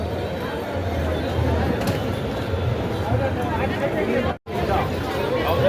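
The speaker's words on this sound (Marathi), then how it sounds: "तर गर्दी बघू शकताय तुम्ही" Dense crowd at a Ganpati arrival procession in the rain, a steady hubbub of many overlapping voices and movement, close and continuous with a brief dropout near the end.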